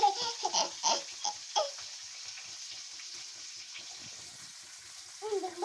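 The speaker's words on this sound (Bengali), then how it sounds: "এই মাছগুলো কেমন ফুটছে বাবা।" Fish fry in a pan with a soft, steady sizzle throughout, while voices talk briefly over it near the start and again at the end.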